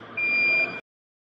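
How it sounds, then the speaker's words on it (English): A single steady electronic beep lasting under a second, then silence. "Press and hold the button behind the manual button until a long beep sounds."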